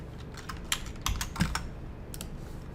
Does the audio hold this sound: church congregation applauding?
no